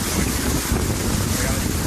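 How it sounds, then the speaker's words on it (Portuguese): Electric catamaran cruising on a river near Belém, driven by motors developed by WEG, with steady wind buffeting and water rush filling the clip at close, loud level throughout. "É um catamarã, motores desenvolvidos pela WEG para o projeto"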